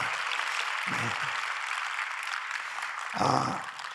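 Church congregation at a Friday Holy Spirit service giving applause of thanks to the pastor, a steady broadband wash of clapping with a couple of low thumps, moderately loud and without talk.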